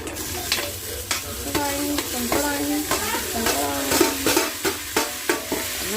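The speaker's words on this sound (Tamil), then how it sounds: "கொஞ்சம் நல்லா வதங்கட்டும். வெங்காயம் நல்லா ரோஸ்ட் ஆகிடுச்சு" Onion and tomato sauté in a pan for a goat trotter curry, with a spoon scraping in regular, rhythmic strokes over a constant close sizzle.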